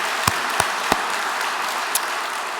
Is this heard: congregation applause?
yes